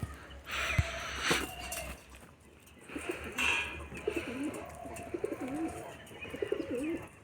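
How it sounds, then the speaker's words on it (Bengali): A rock pigeon coos repeatedly just after being let out, soft rolling calls at moderate distance, with a few brief bumps and rustles earlier and faint background noise. "এই দেখো গোলা পায়রাটা ছাড়তেই ডাকতে শুরু করে দিয়েছে গোলা পায়রাটা"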